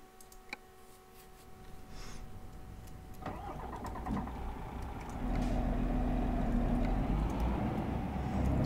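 A car engine cranks over and catches at about three seconds, settling into a steady idle that grows louder and fuller as it revs up before driving off, close and without talk.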